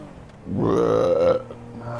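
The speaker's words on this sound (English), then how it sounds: "Cereal burps, lovely, tasty." A single drawn-out, resonant burp after eating cereal swells up and fades over about a second, close and loud, with a quiet room behind it and no talking.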